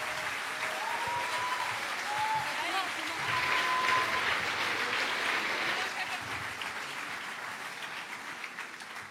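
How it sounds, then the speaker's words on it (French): An audience applauds as two speakers come on stage at a French political youth event; sustained, fairly loud clapping swells midway and then tapers, with faint voices and a few whistle-like tones mixed in. "Applaudissez-les, bravo à eux."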